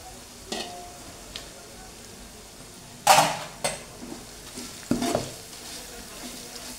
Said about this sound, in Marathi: खोबरं भाजून घेऊया याच्यामध्ये.